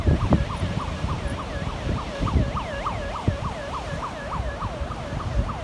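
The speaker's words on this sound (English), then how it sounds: "Oh yeah, it's sirens." Emergency sirens wail in a steady repeating up-and-down sweep near Nauset Beach, fairly close and prominent over a rumbling, buffeting background with scattered knocks.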